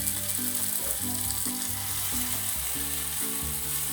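Tofu searing in a cast iron pan, a loud, steady, close sizzle with a constant broadband hiss that runs unbroken through the whole stretch, with no talking.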